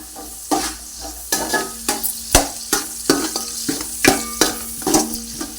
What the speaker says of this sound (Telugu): ఉల్లిపాయలు వేసుకున్నాం కదండి ఉల్లిపాయలు బాగా ఆగాలి ఎర్రగా